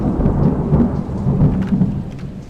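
Loud thunder rumbles continuously through a thunderstorm with rain, deep booming energy swelling and rolling for the whole stretch without any voices.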